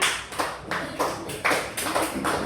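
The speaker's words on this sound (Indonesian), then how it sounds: "Udah, sok tepuk tangan." Students in an Indonesian classroom clap their hands after a group discussion, a brisk, rhythmic run of claps in roughly even bursts, close and fairly loud, with no speech over it.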